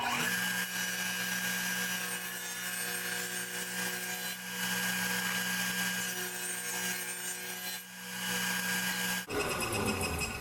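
A table saw with its blade set half an inch high cuts a groove along the inside of a wooden box piece, its steady loud whine running unbroken for about nine seconds before the cut ends and the tone changes.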